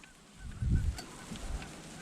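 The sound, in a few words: geese honking as they fly in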